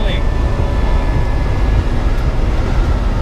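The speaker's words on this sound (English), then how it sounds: "Just accelerating, you can hear all that. The sound is phenomenal. It just screams. The engine just screams." Ferrari Dino 246 engine roaring hard under acceleration, a loud, steady wall of low rumble with wind noise filling the cabin, sustained throughout without a break.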